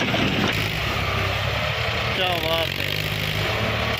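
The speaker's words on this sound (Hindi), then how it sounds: "दोस्तों ये न्यू लैंड 30-32 तीनों का कंपटीशन हो गया है, ये भी फंस गया मेरे को लगता है। ट्रैक्टर आज बार बार फंस रहे हैं" A New Holland 3032 tractor stuck during a tractor pulling competition, its engine straining in a loud, continuous roar throughout, with someone briefly speaking over the noise.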